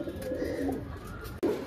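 Andhra pigeons coo in a brief, low, throaty burst that breaks off and then resumes, heard close against a steady background hum.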